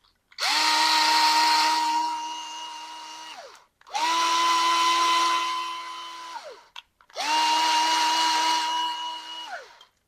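A power drill spins a guitar tuner in three long bursts, each spinning up to a steady high whine and winding down, close and loud with brief silences between.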